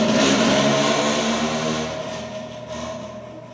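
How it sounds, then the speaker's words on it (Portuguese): A motorcycle passes by outside a church during a sermon, its engine droning loudly at first and then gradually fading into the distance, with no talk over it. "Deixa a moto passar rapidinho."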